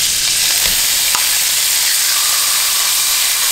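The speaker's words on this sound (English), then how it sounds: "Break it up with your spatula and cook until thoroughly brown." Ground pork frying loudly in oil in a hot pan for Sichuan-style braised eggplant, a steady close sizzle with a couple of faint spatula scrapes as it is broken up and stirred.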